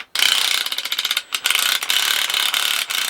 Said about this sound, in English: we got the drill rigged up to the winch